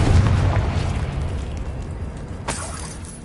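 A Confringo blasting spell in Hogwarts Legacy bursts with a loud, close explosion, its deep boom swelling at the start and slowly decaying, with a sharp crack of debris near the end.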